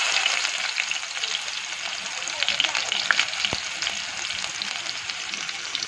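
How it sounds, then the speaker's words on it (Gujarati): Onions fry in hot oil with mustard seeds and cumin in a pressure cooker, giving a bright, constant sizzle close by, broken by a few light taps of a spoon. "હવે અંદર આપણે ડુંગળી નાખી દઈએ।"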